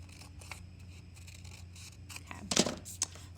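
Scissors snip through a paper sleeve pattern, with several light, close cuts and a louder, sharper crunch of blades near the end, in a quiet room with no speech.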